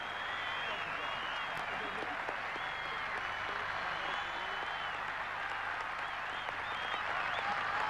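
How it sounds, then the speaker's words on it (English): Dense, sustained applause from a golf crowd greeting Seve Ballesteros as he walks up the 18th fairway at the 1984 Open Championship, a continuous roar of clapping heard at a distance with a faint commentary voice beneath. "I think he's just waiting for the applause for Seve walking up the 18th fairway to cease"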